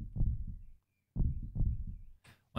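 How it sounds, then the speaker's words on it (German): Heartbeat in the survival horror game Alone in the Dark: A New Nightmare, with three deep, throbbing thumps spaced about a second apart, loud and close, followed by a brief hiss of noise at the end. "weil wir hören einen Herzschlag"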